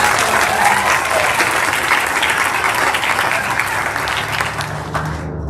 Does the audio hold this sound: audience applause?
yes